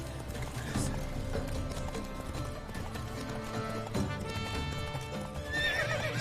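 Roach the horse galloping with rapid clip-clop hoofbeats and a whinny in The Witcher 3, steady and loud over game music, ending with a neigh.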